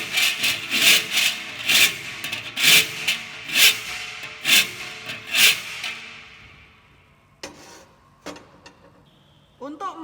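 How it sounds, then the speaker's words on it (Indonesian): A hand file rasping the edge of a hole cut in sheet metal during a metalwork exercise: about eight rhythmic, evenly spaced strokes, loud and close, followed by quieter clicks and handling noises. "dilanjutkan dengan merapikan lubang yang sudah dibuat dengan menggunakan kikir"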